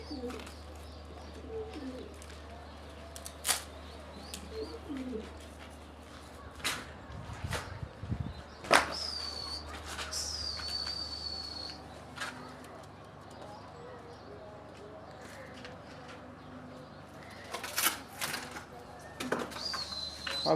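Pigeons cooing on a house rooftop, soft repeated coos and wing flutters close by, with occasional sharp clicks and a person talking intermittently over the birds.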